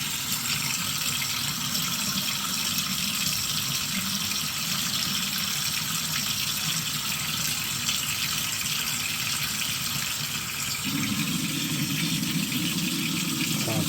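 Water runs steadily into a clogged, backed-up drain, a loud continuous rushing gush close by that shifts to a deeper, heavier tone near the end.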